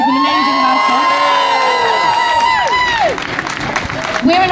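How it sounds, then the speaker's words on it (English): Crowd outside a Marks and Spencer store at a protest calling to boycott Israeli goods, cheering and whooping loudly with high sustained shouts that fall away into scattered cheers and claps, close and energetic. "So big cheer for everyone who gave us an amazing welcome."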